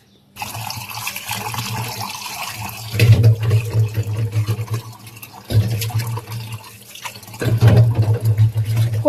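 Tap water runs steadily while fish soaked beforehand are rinsed, a continuous close splashing flow that swells louder in several surges as the fish are handled under the stream, with no talk.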